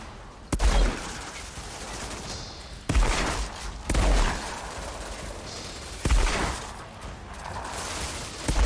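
Heavy gunshots from the video game Outriders ring out at intervals, several loud booming blasts with echoing tails over a constant rumbling battle background.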